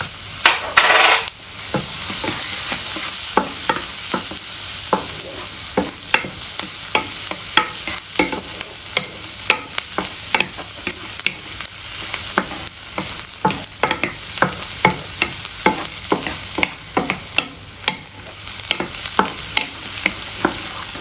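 Butter frying in a pan for chicken liver pâté, a steady close sizzle with frequent crackles and pops throughout, no voices.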